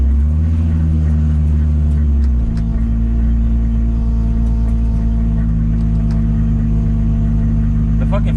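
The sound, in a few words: Toyota Supra with full exhaust idling, fuel pump audible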